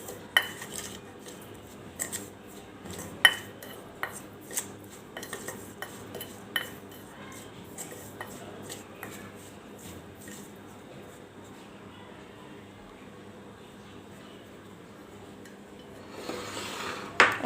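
Beef being mixed with spices in a bowl for beef chap, with scattered clinks and taps of a utensil against the dish and soft squishing stirring, quieter in the middle and picking up again near the end.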